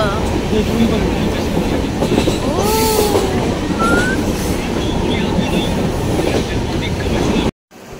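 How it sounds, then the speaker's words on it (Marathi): A train near Lonavala, India rumbles past close by with a loud continuous roar, rhythmic wheel clatter and brief high metallic squeals, ending in a sudden cut. "हे बघा काही ट्रेन कशी दिसते."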